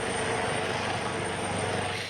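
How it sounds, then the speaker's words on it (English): A helicopter flies an aerial sweep over a Sydney beach in a search for a shark, its rotor and engine making a loud, continuous, dense roar. "a second chopper did an aerial sweep to search for the shark"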